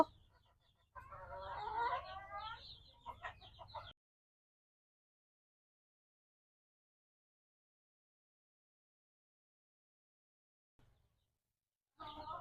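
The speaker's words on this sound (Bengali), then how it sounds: "আর বড় মুরগিগুলো বেশ ভালোই আছে" Large hens cluck nearby in short, quiet bursts, with a long stretch of silence between the first run of calls and a final brief one.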